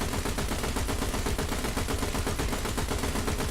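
A vehicle-mounted weapon in a video game fires heavy automatic gunfire, a dense, unbroken stream of rapid shots that stays loud and steady the whole time, with no talk over it.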